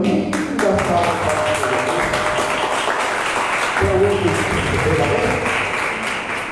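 Church congregation applauding during a worship service, a steady dense wash of clapping that fills the whole stretch, with tonal sound, likely voices or music, running underneath.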